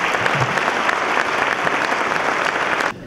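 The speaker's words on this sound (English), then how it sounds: "Let's have one last round of applause for all of the awardees this evening" Sustained applause from a large audience at an awards ceremony, loud and dense throughout, cutting off abruptly near the end.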